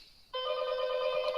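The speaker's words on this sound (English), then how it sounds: "it's not a phone. It's my buzzer" A door buzzer rings in a steady, bright electronic tone that cuts in suddenly after a quiet moment and holds without a break, fairly loud and close, with no voices over it.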